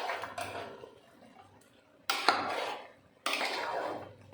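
Fried stalks, cauliflower and boiled peas being stirred in a cooking pot with ground spices and ginger paste, three bursts of scraping and clattering separated by quieter pauses, close and alone.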